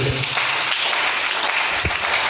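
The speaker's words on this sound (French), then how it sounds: "Est-ce qu'on peut acclamer le Seigneur?" Church congregation applauding during a sermon, a steady, dense wash of clapping that stays loud and even for the whole stretch, with no speech over it.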